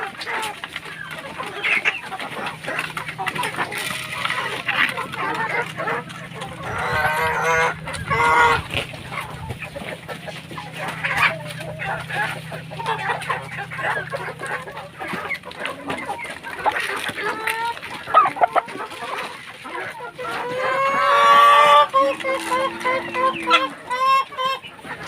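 Free range chickens and ducks on a farm cluck, crow and quack in a noisy mixed chorus, with a loud burst of honking quacks near the end.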